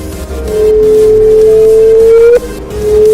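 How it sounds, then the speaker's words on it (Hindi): Sonified signal of two black holes colliding, heard as a clear sustained sine-like tone that glides slowly upward, cuts off abruptly near the end and then resumes briefly over a faint noisy background. "पर जब दो ब्लैक होल्स आपस में टकराते हैं तो कुछ इस तरह की आवाज आती है।"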